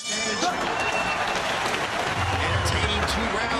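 Arena spectators at the Chen Rui vs Drex Zamboanga MMA bout keep up loud, continuous applause and cheering, with a commentator's voice running over the noise.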